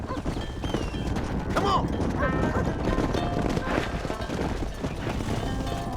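Horse hooves clip-clop steadily at a run in the Western video game Red Dead Redemption, a dense continuous patter of hoofbeats under game music and effects, with a brief spoken line over it.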